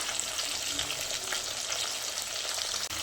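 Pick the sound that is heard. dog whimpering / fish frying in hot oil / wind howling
fish frying in hot oil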